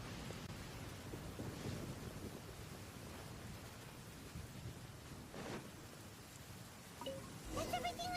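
Rain and rumbling thunder in the Genshin Impact video game, a steady wash of rainfall with a couple of thunder swells, fairly quiet and continuous.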